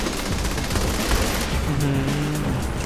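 Rapid automatic gunfire in the video game Saints Row The Third, dense bursts of shots filling the first half, then a sustained whine of engine or siren tones as the firing thins out, loud and close.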